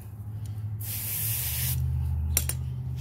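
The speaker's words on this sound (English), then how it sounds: "I'm going to coat them up anyway and just see, without agitation, if it removes any of that dirt and grime" Stoner Brake Dust Eraser non-acid gel wheel cleaner is sprayed onto a car wheel in one long, loud hissing burst, followed by two short quick spritzes. A low hum continues underneath and no one speaks.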